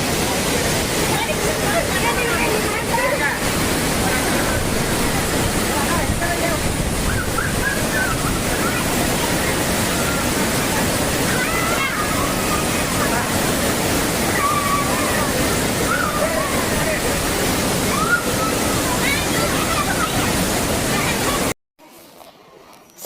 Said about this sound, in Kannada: ಇವತ್ತು ನಾವು ಸಿದ್ದಾಪುರದ ಹತ್ತಿರವಿರುವ ಭವ್ಯ ಜಲಪಾತ ಭೀಮೇಶ್ವರ ಜಲಪಾತಕ್ಕೆ ಹೋಗೋಣ ಬನ್ನಿ